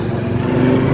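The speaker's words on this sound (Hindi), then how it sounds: "ये दिल पे ठा करके बजने वाली बाइक है भाई" A loud motorcycle engine on a road gives a steady, close, buzzing drone that fills the whole moment, with no talking.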